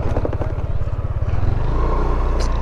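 A motorcycle engine putters nearby with a rapid steady throb, then settles into a smoother hum as the ride gets going, with a faint voice in the background.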